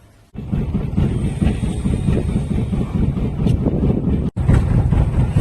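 A fishing boat engine starts at sea before dawn, jumping from near silence into a loud, steady low rumble with wind buffeting the microphone and a brief cut near the end.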